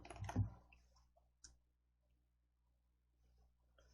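Two crisp computer mouse clicks, one near the start and a second sharp click a second later, with quiet room tone between.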